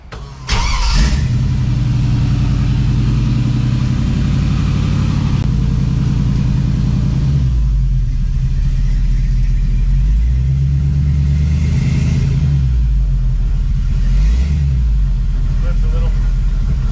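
An LS V8 engine mounted mid-engine in a 1963 Corvair 95 starts and runs, a loud close idle rumble with a few revs swelling and falling, talk faintly mixed in.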